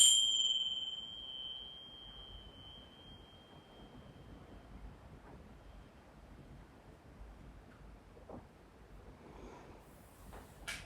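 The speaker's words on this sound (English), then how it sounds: "I will always ring the bells to start the class" A bell rung at the start of a yoga class rings out clearly once, its bright tone decaying over a couple of seconds before fading into quiet room noise.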